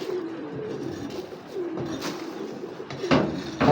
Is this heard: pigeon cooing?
yes